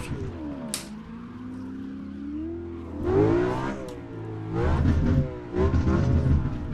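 BMW E92 M3 engine in the Assetto Corsa racing game, revving and changing pitch as it accelerates and lifts, with rough crackling bursts toward the end, steady and fairly close with no voices.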